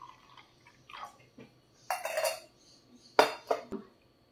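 Pecel with young papaya leaves being stirred on a plate, with scattered clinks and scrapes of cutlery against the dish, several sharp close taps among quieter handling sounds.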